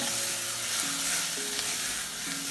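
Oregano and dry spices cook in a beef chilli pan, giving a brief, steady sizzle and soft stirring close by. Faint tonal sounds from something else run underneath. No talking.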